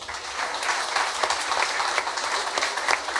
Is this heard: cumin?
no